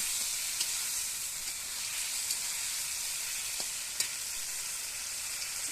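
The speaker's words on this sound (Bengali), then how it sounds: "তারপরে ভেজে রাখা আলুগুলো দিয়ে দিলাম। দেখো কষা হচ্ছে।" Fried potatoes sizzling in a pan while being stir-fried for a paneer curry, a steady close hiss with faint stirring clicks.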